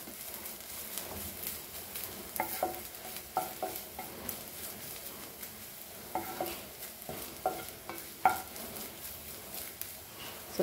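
Whole masoor dal roasts in a pan for a Goan-style dish, a soft steady sizzle under repeated scraping stirs and light taps of a spoon against the pan.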